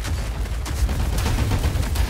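Rapid bursts of gunfire crackle continuously in a first-person shooter match, close and dense without pause, with explosive booms mixed in and no speech.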